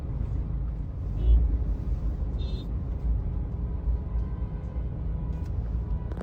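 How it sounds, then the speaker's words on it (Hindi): A car sits in a road traffic jam caused by an accident ahead; a steady low engine and road rumble fills the clip, broken by two brief high squeals like air brakes, with no talk. "ये देखिए मैं फंस चुका हूँ बढ़िया तरीके से ट्रैफिक में।"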